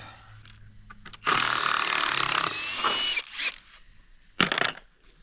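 A power drill backs screws out of concrete formwork. It whirs loudly in a couple of bursts of a few seconds each, with mechanical clicks and rattles between them, close by and with no talking.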